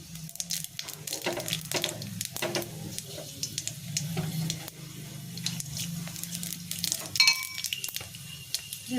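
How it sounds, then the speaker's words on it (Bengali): Dried red chillies and panch phoron frying in oil, a soft crackle and sizzle with scattered sharp pops and stirring clatters, fairly quiet and uneven, with a faint low hum underneath. "ফোড়নটা একটু ভেজে নিতে হবে"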